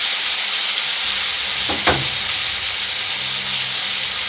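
Onions and chopped green chillies frying in a pan over low heat, a loud continuous hiss-like sizzle with one short knock of a utensil near the middle.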